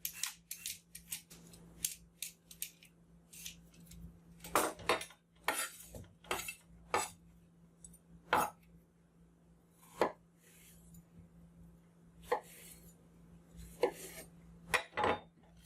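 A knife peels and seeds a cucumber, making sharp, close scraping and clicking strokes in uneven, quick succession against a quiet kitchen background, with no one speaking.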